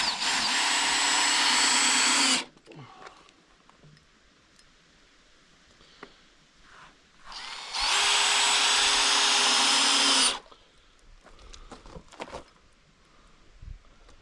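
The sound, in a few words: power drill driving screws into floor strips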